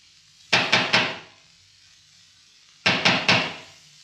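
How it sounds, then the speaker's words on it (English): Loud knocking on a wooden door in a classic 1947 animated cartoon: two sets of three sharp raps, close and resonant, separated by a short pause. "he would knock very loudly just to make quite sure"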